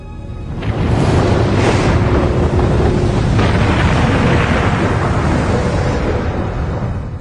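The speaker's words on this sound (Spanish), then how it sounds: "Esta gran cuenca curva fue creada por una gigantesca erupción volcánica." A huge volcanic eruption explosion rumbles in loud and sustained, a broad roaring blast with a second surge partway through, alone without voices.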